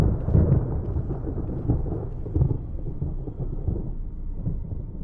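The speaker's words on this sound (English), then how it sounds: "the rumble of thunder and heavy rain against the mansion windows as you pass them" Video game audio from the Resident Evil remake: deep rolling thunder rumbles continuously over a steady wash of heavy rain against mansion windows, with no voices.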